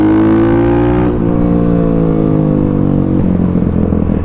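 A 2021 Kawasaki KLX350SM supermoto on supermoto wheels roars close by while riding, its engine note sliding down in pitch between shifts, with a sharp change about a second in and another near the end.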